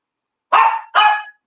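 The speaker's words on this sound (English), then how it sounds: "He's a full chihuahua, you can tell." A chihuahua gives two sharp, loud barks in quick succession, close by, with silence before and after.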